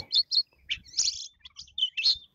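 A small manggar songbird chirps and twitters in quick, bright bursts, close by and clear, with a few soft knocks underneath.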